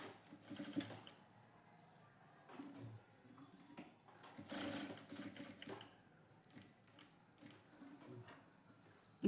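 A sewing machine stitches a princess cut blouse in short, quiet bursts of rapid ticking, with pauses between runs.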